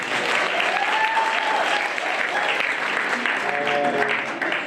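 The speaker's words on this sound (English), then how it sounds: "let's give our recipient another round of applause" A crowd gives a full, continuous round of applause for a recipient at the Rand Water long service awards ceremony at the Zwartkopjes pumping site. The clapping is loud and sustained throughout, with faint voices underneath.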